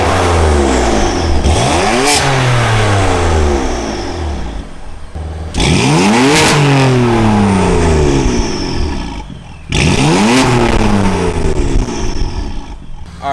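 A BMW F80 M3 fitted with high flow downpipes revs three times from idle, each blip climbing sharply and falling back with a raspy exhaust growl, heard loud and close with a steady idle between.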